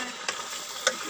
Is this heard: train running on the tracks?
no